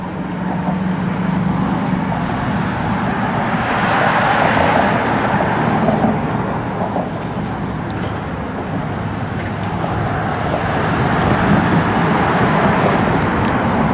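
A 2000 GMC Sierra short-box pickup with its factory exhaust idles and runs at a steady, moderately loud level, its low rumble swelling slightly and easing back with no voices over it.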